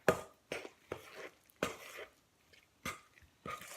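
Keto biscuit dough with cheese being mixed in a bowl, a series of soft, dull thumps and squelchy presses at an uneven pace, close and quiet with short pauses between strokes.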